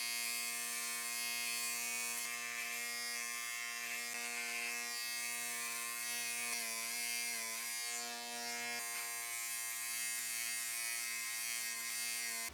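A Manscaped Chairman Pro electric trimmer shaves hair close to the skin, giving a steady high-pitched buzz with a dense harmonic whine. It runs continuously with slight wavering as it moves against the skin.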